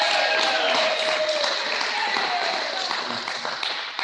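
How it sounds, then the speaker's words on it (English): A school assembly crowd applauds with brisk, dense clapping that holds steady for several seconds, then begins to thin slightly toward the end. "Let's do a round of applause."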